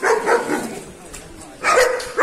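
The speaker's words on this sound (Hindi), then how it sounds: "यहाँ कुत्ते लोग भी डरा रहे हैं" Dogs bark near a flooded bridge in Bilaspur during high water, two short bursts of barking a couple of seconds apart with a gap between, set against background noise.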